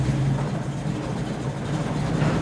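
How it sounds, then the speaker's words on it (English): A vehicle engine idles with a steady low rumble and a faint strained whine from unhappy power steering, heard up close in a shop with no talk. "Power steering ain't happy."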